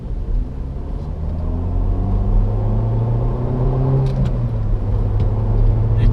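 Peugeot 307 2.0-litre 180 Feline three-door from 2006, with the 206 RC engine, pulling hard under acceleration. A steady, loud low engine drone runs throughout with rising harmonic tones, and no one talks.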